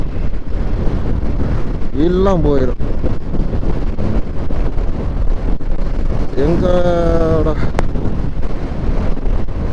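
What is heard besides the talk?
strong wind blowing on microphone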